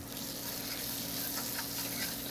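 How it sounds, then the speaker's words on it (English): Crushed red pepper flakes, about a teaspoon, go into a sizzling pan for tomato pasta, giving a steady, close frying hiss with faint crackles throughout and no talking. "now we can go ahead and add in our red pepper flakes"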